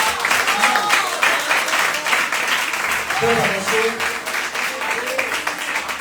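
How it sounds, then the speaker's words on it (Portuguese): A church congregation claps together during a deliverance service, steady dense applause filling the room throughout, with a voice speaking over it. "A igreja pode bater as palmas dos altos"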